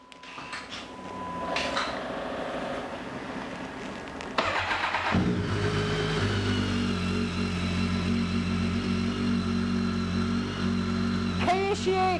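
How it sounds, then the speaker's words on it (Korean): A 2011 BMW K1300R motorcycle with an Akrapovic muffler starts up after a moment of quieter sound, then settles into a steady, close idle with a deep, even exhaust note. "아크라포빅 머플러의 배기 사운드를 한번 들어보고요."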